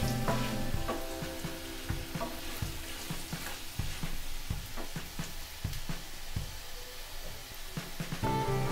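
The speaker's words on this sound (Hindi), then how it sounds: "स्वाद के अनुसार आप नमक दीजिए, और इसको बढ़िया से भूनते रहिए।" Elephant foot yam pieces frying with salt in a pan, a steady sizzle with frequent knocking and scraping strokes of a spatula stirring, close and fairly even throughout.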